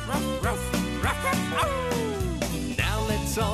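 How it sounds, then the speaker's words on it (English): A children's-show dog character barks several times in short yips over loud, bouncy music and singing. "Here comes Wagsy, listen to him bark."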